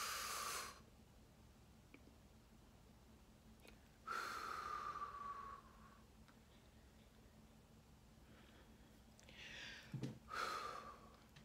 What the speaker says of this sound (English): we're gonna breathe in and breathe out